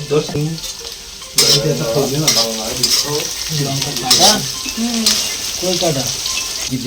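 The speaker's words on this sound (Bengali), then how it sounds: "পেঁয়াজ দেওয়া হচ্ছে, তেলটা আগে দেওয়া ছিল, গরম হয়ে গেছে।" Onions drop into already hot oil for a rohu fish and taro curry, producing a loud, busy sizzle with stirring clatter, while someone talks over it almost the whole time.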